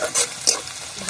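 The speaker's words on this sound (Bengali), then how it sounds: "ভাজা প্রায় হয়ে এসেছে" Onion frying in hot oil gives a close, steady sizzle with a couple of quick stirring scrapes over about a second.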